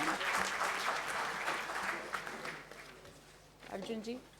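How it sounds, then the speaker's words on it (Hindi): An audience claps at the Hindi Pakhwada 2022 prize-giving ceremony held by the Lok Sabha, a steady wave of applause that fades gradually over several seconds while a voice speaks over it. "तो अर्जुन जी के लिए एक बार फिर से तालियां हो जाए"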